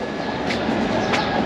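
A train passes in Egypt, giving a brief, fairly loud rumble with faint clatter from the rail wagons.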